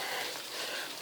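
Rain falls steadily outside a campervan, a dense even hiss of drops with no distinct impacts and no voices.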